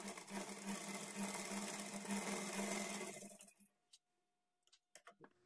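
A sewing machine stitches a blouse dart at a quarter-inch margin, running steadily and fairly close for about three and a half seconds before stopping, followed by a few faint clicks and handling taps.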